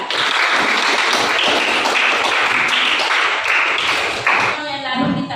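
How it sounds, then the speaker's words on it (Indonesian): A classroom group applauds group 3 during an Islamic studies lesson on the Quran and Hadith: steady, rhythmic clapping for about four seconds, then it stops and a voice follows. "Tepuk tangan untuk kelompok 3"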